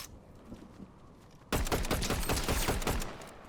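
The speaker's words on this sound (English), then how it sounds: "I'm gonna hit him with a pistol on my way there." Pistol fire in Fortnite Zero Build: after a quiet stretch, a sudden loud, rapid string of close shots lasts about two seconds and then fades out, with no talking.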